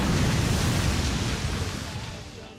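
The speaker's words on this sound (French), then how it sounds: "Maintenant s'il vous plaît, une autre explosion." A loud, broad explosion sound effect booms up close, then its rumbling noise slowly tails away over a couple of seconds, with no voices over it.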